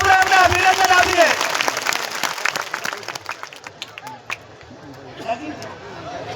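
A crowd at a community meeting applauds a donor of land, clapping that fades over a few seconds into scattered claps and murmuring chatter, with a voice speaking over the start.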